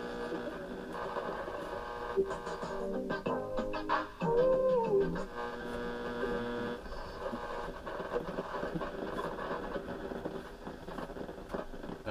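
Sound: AM stereo radio broadcast near 1240 on a boombox

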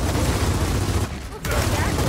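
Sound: gunfire in the video game Gears of War 4

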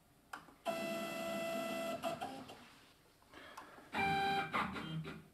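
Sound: mini lathe running its homing routine

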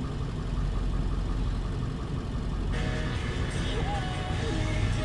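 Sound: 2000 Ford F250 7.3 diesel engine idling

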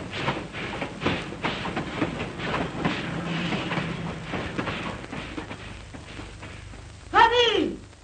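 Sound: steam locomotive train approaching

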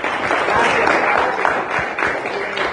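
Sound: church congregation applauding

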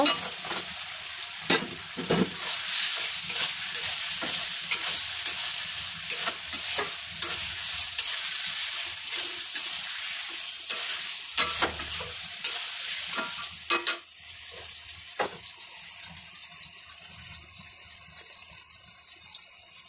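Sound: pre-fried pointed gourd being stirred and fried in pan

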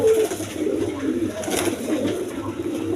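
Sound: Raj Golla pigeons cooing

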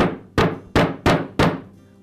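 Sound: hammer lightly tapping a new bearing onto a sander drum

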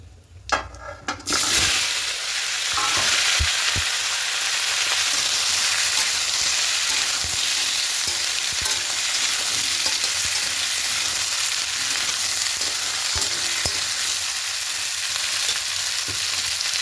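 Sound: potato, pumpkin, cauliflower and peas frying and stirred in tempering

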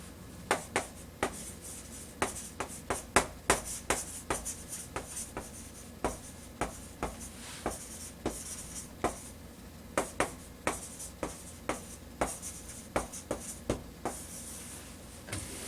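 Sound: writing an English sentence by hand

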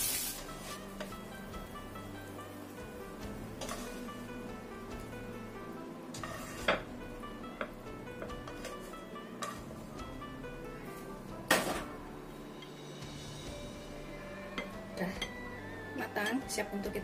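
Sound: lifting and plating fried eggplant and potato dish, pans clinking

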